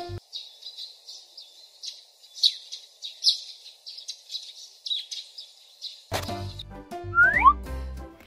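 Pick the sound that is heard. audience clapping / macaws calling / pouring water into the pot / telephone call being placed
macaws calling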